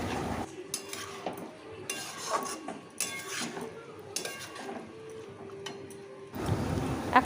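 Boiled dried peas sautéed with spices in a pan for ghugni, irregular scraping and clinking of a spatula against the pan over a light sizzle, close, with a louder rush of frying near the end.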